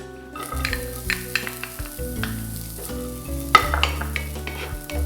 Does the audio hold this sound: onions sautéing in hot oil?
yes